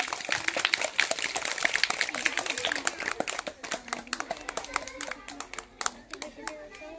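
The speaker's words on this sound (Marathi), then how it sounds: "टाळ्या होऊन जाऊ दे एक बार जोरदार" A circus crowd applauds a bicycle-balancing act, a dense burst of sharp handclaps that thins into scattered claps, heard close and fairly loud while people talk over it.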